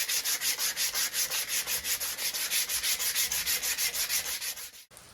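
A wooden war club being sanded by hand to remove tooling marks, with quick, even back-and-forth rasping strokes in a steady rhythm, close and loud, stopping briefly near the end.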